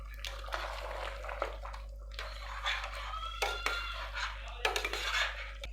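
A spoon scrapes and clanks in a pan, mixing tomatoes and chilli for mutton curry, in irregular bursts of metallic stirring with short pauses.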